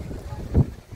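Strong gusty wind buffets the microphone at a fairground (Kiliani Volksfest in Würzburg), a low rumbling roar that swells into one louder gust midway.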